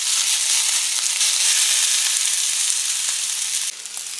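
Peppers and onions sizzle and fry in a pan, a steady close hiss of broadband crackle that holds evenly throughout, dipping slightly near the end.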